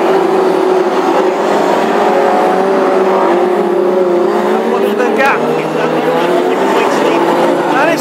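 Hot rod race cars roar around an oval track in a grand final at Birmingham, a loud continuous engine drone with rising and falling pitch as cars pass, under excited race commentary.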